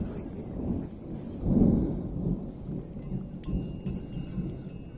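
Thunder from a nighttime storm at a homestead in Portugal rolls in as a deep, swelling rumble under a steady wash of rain, followed by sharp drips and taps nearby.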